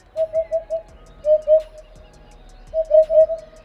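A Eurasian hoopoe, a medium-sized bird with rufous plumage, black-barred wings and a crest, calls in soft, hollow, low hooting notes. They come in short runs of two to four evenly spaced notes, clear and fairly close, with no voices.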